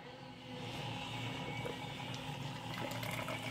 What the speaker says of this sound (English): Now we're gonna pour.